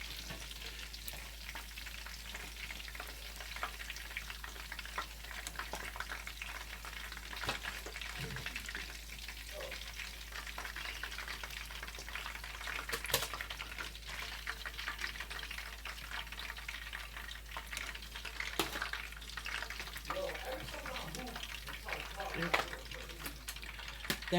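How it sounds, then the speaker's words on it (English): Chicken cutlets frying in a pan make a steady, moderately quiet sizzle with occasional sharper pops, continuing throughout with faint background noise. "once I finish frying up the chicken"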